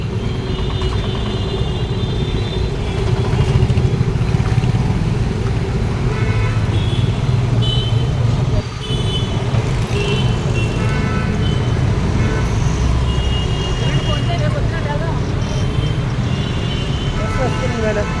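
Steady roadside traffic of motorbikes and cars passing by, a continuous loud engine rumble and road noise with occasional horn tones and a brake hiss, a voice talking over it.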